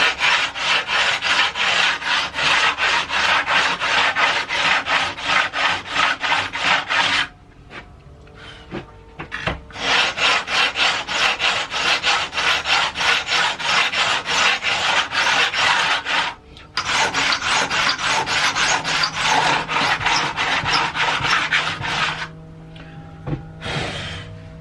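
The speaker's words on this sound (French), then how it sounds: "je vais reponcer les frettes jusqu'à temps qu'il n'y ait plus de noir" Guitar frets being sanded with a radius block and 240 grit paper, a loud rapid rhythmic rasping of back-and-forth strokes in three long bursts separated by brief pauses, close and alone without talk.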